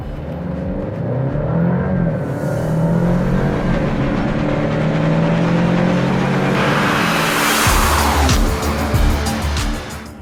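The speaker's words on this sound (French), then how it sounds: "Alors 0 à 100, l'Alfa Romeo Stelvio." An Alfa Romeo Stelvio with an eight-speed ZF automatic accelerating hard from 0 to 100 km/h, loud engine roar climbing steadily in pitch, then a brief drop at a gear change before pulling strongly again, close and continuous.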